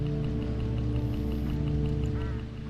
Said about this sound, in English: Get enough of these crows together and it's big trouble.